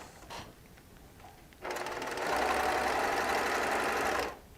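A sewing machine runs steadily for a few seconds as quilt pieces are sewn off in a chain, a loud, even mechanical whirring up close that starts abruptly and stops cleanly, with no talking.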